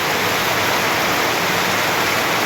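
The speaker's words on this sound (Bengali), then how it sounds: "বৃষ্টির চাপ প্রচণ্ড বেগে বাড়ছে" Heavy rain pours down in a storm at a fruit shop in Khola Pota, Basirhat, North 24 Parganas, a loud, dense, unbroken roar of noise close around with no voices.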